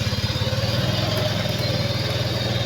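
A motorcycle engine idles close by, a steady low rumble with a regular pulsing beat that stays even throughout.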